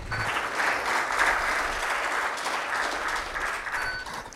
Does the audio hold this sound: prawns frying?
no